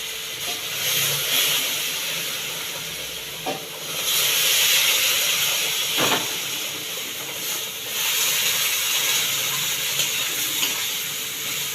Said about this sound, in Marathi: थोडं थोडं करून गरम दूध टाका, ते उडेल